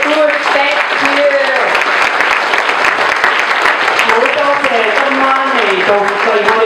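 Sustained, loud applause from diners at a Chinese gala dinner in Vancouver, honoring the serving and cooking staff, with voices talking over the dense clapping throughout.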